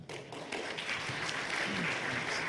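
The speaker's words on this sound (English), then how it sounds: "So please give him a big round of applause." Audience applause at a Toorcon 2007 security conference as a speaker is introduced, a steady wash of many hands clapping in a hall, building quickly and holding at a moderate level.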